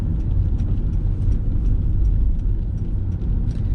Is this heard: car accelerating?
yes